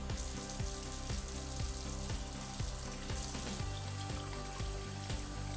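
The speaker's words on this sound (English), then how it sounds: "So we'll simply take the filter and just rinse it under some hot water." Hot tap water runs steadily over a ventilation filter as it is rinsed, a constant hissing splash with small rhythmic knocks and drips.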